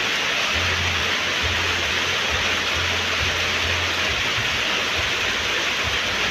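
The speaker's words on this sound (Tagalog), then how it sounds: "Nya ulan kay guys, wadyo undang-undang ang ulan." Steady rain falls continuously, a dense even hiss that stays loud and unbroken throughout, with a low hum underneath.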